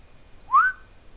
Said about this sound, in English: And sorry for the whistling.